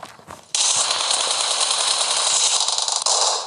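Rapid automatic gunfire from the mobile game PUBG Mobile in a team deathmatch, a sustained loud burst after a brief quiet start, no talk.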